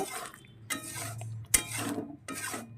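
Green peas and green chili stirred and scraped in a pan for an aloo dum curry, with several separate bursts of sizzling and rasping at close range, one sharp clatter of the utensil, and short quiet gaps between.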